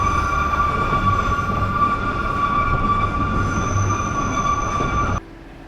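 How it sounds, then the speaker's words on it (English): An Oigawa railway train runs loudly with a steady rumble and sustained high metallic wheel squeal, heard from on board, until the noise drops abruptly just before the end. "Earplugs are recommended on this train, as it can be really loud,"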